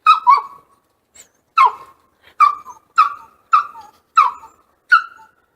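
A dog named Rex barks in a run of about seven sharp, close barks, spaced roughly half a second apart after a short gap, with nothing else sounding around them.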